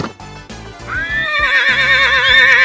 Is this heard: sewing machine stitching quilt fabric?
no